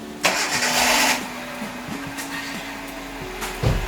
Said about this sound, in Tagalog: Then maaari nang start ang makina.